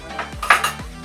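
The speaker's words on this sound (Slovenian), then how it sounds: "Pomivam posodo." Dishes being washed give off a few close, bright clinks and clatters of pots and cutlery knocking together, scattered sharp hits over a quiet background.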